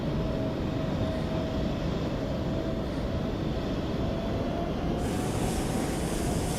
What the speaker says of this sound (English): Oh, there's lots of planes coming in.